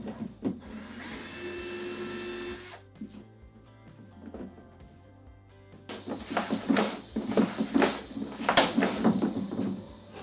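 A boat's tank being pumped to hunt for a leak, a steady whirring drone that cuts out, then rhythmic airy pulses and hissing strokes repeating close by, with no voices.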